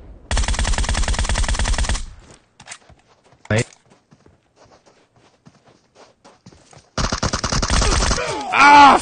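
Automatic gunfire in PUBG Mobile comes in two long rapid bursts, one at the start and one near the end, with a single short shot and footsteps in between and a voice exclaiming at the close.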